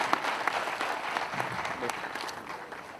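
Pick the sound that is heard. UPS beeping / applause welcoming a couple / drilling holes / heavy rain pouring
applause welcoming a couple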